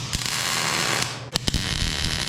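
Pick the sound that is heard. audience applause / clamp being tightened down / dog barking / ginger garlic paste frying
clamp being tightened down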